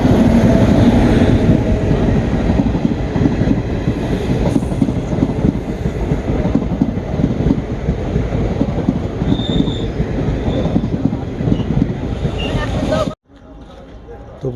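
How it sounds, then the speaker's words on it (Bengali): The Bhagirathi Express passenger train rolls into a station at night with a continuous loud rumble of wheels and cars and faint squeals, close by, ending abruptly near the end while a person talks over it. "এই যে ভাগীরথী এক্সপ্রেস ঢুকছে।"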